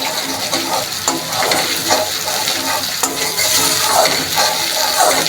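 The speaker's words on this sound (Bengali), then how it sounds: "দেখো মশলাটা কষানো হয়ে গেছে এখন আমি টক দইটা দিয়ে দিচ্ছি" Yogurt goes into a pan of sizzling spice masala, a loud, close frying crackle with repeated spatula scrapes and stirring strokes through the whole stretch.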